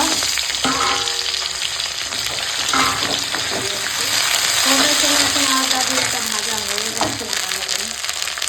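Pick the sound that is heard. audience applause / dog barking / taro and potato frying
taro and potato frying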